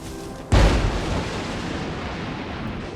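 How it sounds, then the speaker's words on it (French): A sudden loud thunderclap from a lightning strike in Marvel's Spider-Man on PS4 booms in after a half-second of quiet, then rolls on as a sustained, dense rumble that slowly fades but stays loud, with no voices. "Est-ce que vous entendez ces éclairs?"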